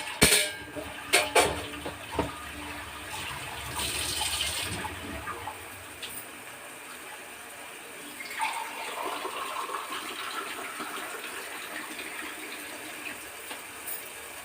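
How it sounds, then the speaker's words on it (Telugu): Water is poured into a pan of cooking leafy greens. A few knocks and splashes come first, then a steady rushing pour that fades into a softer trickle, close and moderately loud. "ఆకు మునిగేంత వరకు కూడా వాటర్ వేసుకుందాం."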